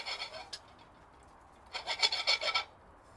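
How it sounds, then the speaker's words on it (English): Whole spices toasting dry in a pan while being stirred to keep them moving, giving a brief scrape followed by a burst of rapid rasping, scratching strokes close up, with no talking. "So we're just going to toast these spices off, just to get a little bit more depth of flavour out of them."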